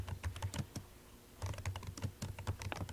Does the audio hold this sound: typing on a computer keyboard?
yes